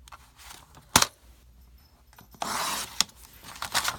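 Paper being cut to size for a library pocket: one crisp snip, then a longer rasping slide of the blade through the sheet, followed by a few more sharp clicks.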